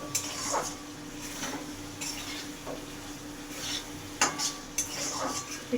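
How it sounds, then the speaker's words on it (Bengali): A spoon stirs kofta curry in a pan, giving a soft simmering sizzle punctuated by several sharp metallic scrapes and clinks, close and fairly quiet, with no talk. "নাড়াচাড়া করে নিই"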